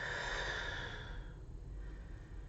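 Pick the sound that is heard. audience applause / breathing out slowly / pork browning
breathing out slowly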